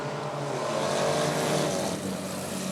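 Race cars in the Original Sixers class roar off together at the green flag of a heat at Rockford Speedway, a steady, loud, layered engine drone that holds for the whole stretch.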